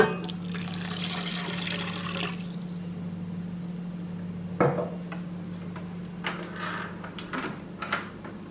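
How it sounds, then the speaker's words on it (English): Water poured into a bowl holding yeast and salt while making Swedish hard bread: a steady liquid trickle with a low hum, a few clinks and splashes, heard close up with no talking. "And then you add some water."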